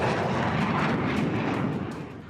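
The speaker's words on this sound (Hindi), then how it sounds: "बेंगलुरु के आसमान में जब राफेल ने अपनी उड़ान भरी" A Rafale fighter jet flying over Bengaluru at the Aero India 2023 air show, a loud broad roaring rumble that holds steady and then slowly fades as it passes.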